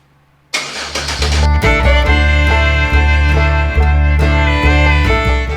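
A newly installed engine cranks briefly and then fires up for the first time, settling into a loud, steady running rumble close by with regular pulsing throughout.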